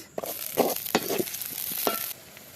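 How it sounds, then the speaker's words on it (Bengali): Fish frying in a pan for a spicy village-style curry while being stirred and turned; close sizzling with several scraping and clinking strokes of the spatula, then the sizzle drops away near the end. "মাছ ভাজা হয়ে গেছে এখন মাছ ভুনা করার অপেক্ষা"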